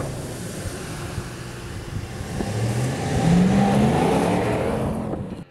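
Ram 1500 Rebel pickup truck accelerating up a hill on a rough road, its engine note rising steadily in pitch and loudness before easing off, with wind rushing past throughout.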